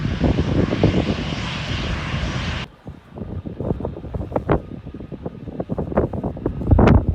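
An EasyJet airliner roars on take-off at Manchester Airport, a loud broadband jet rumble that drops abruptly partway through, then continues as a rougher, gusting engine noise with wind buffeting the microphone.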